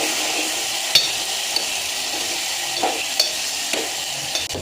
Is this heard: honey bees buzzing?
no